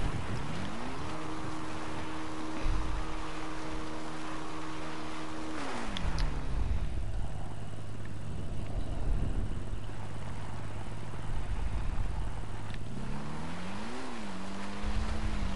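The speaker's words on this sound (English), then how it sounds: "Especially when we're riding dirt bikes like this." A dirt bike engine in a console game holds a steady buzzing drone, drops to a lower idle, then briefly revs up again, continuous and fairly close.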